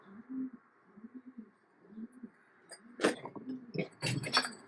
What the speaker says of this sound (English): Can you hear the pigeon?